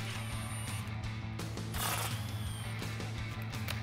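Ratchet with an 8 mm socket loosening dust shield bolts on a Ford F-150 front end, faint rapid mechanical clicking and ratcheting in short bursts, with a brief metallic rattle near the middle.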